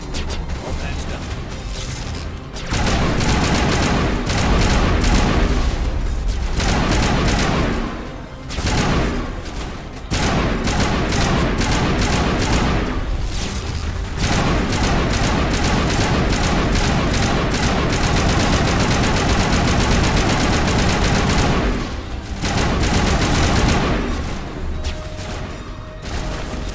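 Sustained gunfire from a weapon in Mass Effect Legendary Edition, loud and dense bursts running almost nonstop with a few short pauses, over game mechanisms and booms.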